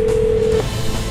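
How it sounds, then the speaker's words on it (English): A single steady electronic tone from a Ford Sync in-car phone system in a 2010 Ford Focus SES starts a call, holding for about half a second over low cabin hum, then cutting off. "Calling David"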